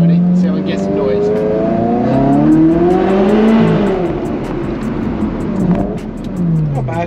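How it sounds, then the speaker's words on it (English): A Ferrari 360 Challenge Stradale Spider engine revs inside a tunnel, rising and falling through a couple of loud, close throttle blips with echoing exhaust, and voices are heard over it. "Let's have a listen. Ready? Let's see how we can get some noise."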